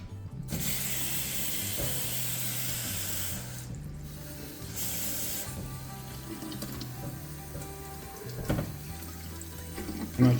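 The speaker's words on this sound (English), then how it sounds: "we're actually going to rinse the cheese and remove all that extra whey out of it" Paneer cheese is rinsed under a running kitchen tap to wash out the whey, with a steady moderate hiss of flowing water, a low mechanical hum underneath and a few faint clanks near the end.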